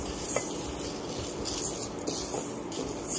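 Horse gram, 200 grams, stirred and dry-roasted in a pan for a health drink, giving a steady rustle of seeds with light scraping clicks against the pan throughout, close and fairly quiet with no talk.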